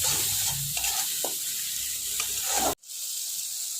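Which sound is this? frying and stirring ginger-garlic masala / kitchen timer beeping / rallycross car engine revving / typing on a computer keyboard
frying and stirring ginger-garlic masala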